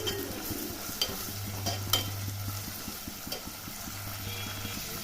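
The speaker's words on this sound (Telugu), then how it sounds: "బీన్స్ పచ్చిరొయ్యలు కర్రీ బాగుంటుందండి. బాగా కడుపు పట్టుకున్న పచ్చిరొయ్యలు వేసేద్దాము. ఇప్పుడు ఒక 1 మినిట్ దాకా ఫ్రై చేద్దామండి." Raw prawns and double beans sizzling in a pan, with a steady fry hiss and a regular scraping of a spoon stirring through them, close and continuous with no talking.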